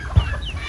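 A short burst of chicken clucking, one quick low cluck standing out against a steady background murmur.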